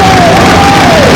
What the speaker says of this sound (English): The crowd cheering him on, and we've got a lot of people here today